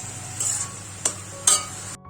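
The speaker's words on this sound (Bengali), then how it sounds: "একটু বেশি করে লঙ্কা দিয়েছি, নুন, ঘি দিয়েই ভাজছি" Drumstick flowers fry in ghee with chilli and salt, giving a steady hiss of sizzling with a few short scraping stirs of the spatula in the pan, close and clear with no talking.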